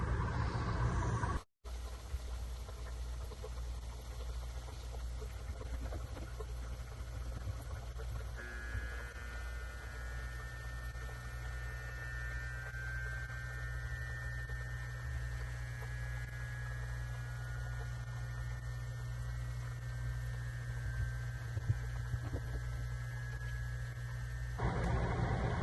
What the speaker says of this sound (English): Let me shut up so we can hear when the pump kicks on.